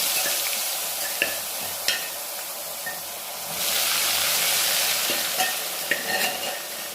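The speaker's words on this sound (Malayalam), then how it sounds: "ഇനി നമ്മൾ എടുത്തു വച്ചിട്ടുള്ള നെല്ലിക്ക ഈ എണ്ണയിലേക്ക് ഇടുക" Indian gooseberries (nellikka) frying in hot oil, a dense steady sizzle with occasional stirring clinks, close and fairly loud with no talk.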